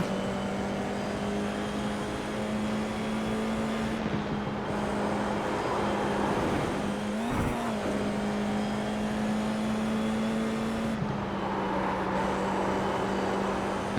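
Race car engines in a racing video game drone steadily at high revs, a sustained loud whine with a brief pitch dip and a passing surge of another car midway, no talk over it.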